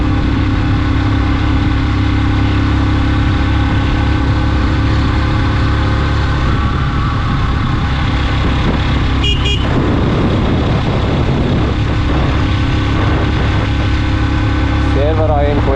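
Car engine droning steadily while driving a quiet hill road in Yercaud toward Servarayan temple, continuous low rumble throughout with brief higher noises near the middle and end.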